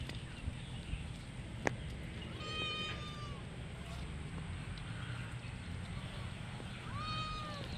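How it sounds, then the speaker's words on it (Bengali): A cat meows a few times at a nursery on a rainy day, with short, fairly clear calls over a steady background of rain and outdoor noise. "এই আমাদের পুষি পেছন পেছন ঘুরছে"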